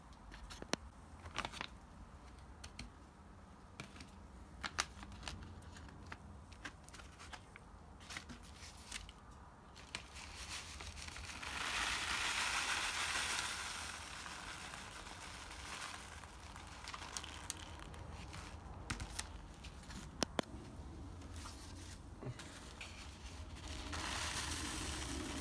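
Calcium acetate powder made from eggshells being poured and scooped into a plastic bag, giving soft crinkling, rustling and gritty shuffling sounds with occasional sharp ticks, close and fairly quiet.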